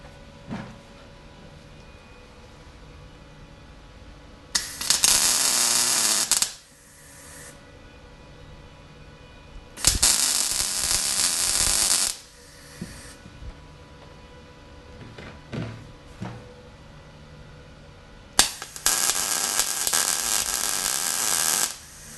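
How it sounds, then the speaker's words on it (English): Welder tacking a brace onto a Countach replica chassis frame, three loud crackling bursts of a few seconds each separated by quiet shop pauses with small clanks, close up. "So let's go and get this tacked in."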